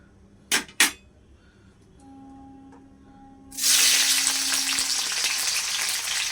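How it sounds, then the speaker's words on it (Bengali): Triangular pieces of capsicum and tomato drop into a hot pan and burst into a loud, sustained sizzle after a couple of sharp clicks and a faint hum. The frying continues steadily to the end. "এইরকমভাবে ত্রিকোণাকৃতি করে এটাকে আমি অল্প ভেজে নেব।"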